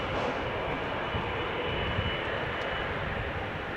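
United Airlines Boeing 777-200 jetliner arriving at Amsterdam Schiphol Airport from Houston, a steady, even roar of jet engines heard from a distance, with no voices.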